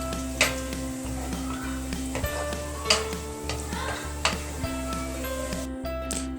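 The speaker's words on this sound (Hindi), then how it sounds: "काट के हम इसे फ्राई करेंगे। प्याज को आपने गोल्डन ब्राउन करना है।" Sliced onions frying toward golden brown for Sindhi biryani, a continuous loud sizzle with a low steady hum beneath and occasional stirring scrapes, no talking.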